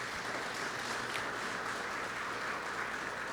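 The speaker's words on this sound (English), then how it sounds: "I invite you please to give them a round of applause." Audience applause at a formal ceremony, steady and sustained for a few seconds, fairly faint and diffuse, with no talk over it.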